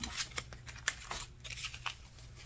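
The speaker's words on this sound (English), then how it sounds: "And then we stuff the envelope." Paper cash being stuffed into an envelope, with several soft, crisp rustles and papery flicks at close range, fairly quiet, with no talking.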